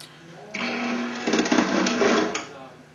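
A DFG ETitanComb binding machine punches a stack of ten 10 mil PVC covers, giving a short mechanical grinding clunk of a few seconds amid background hum.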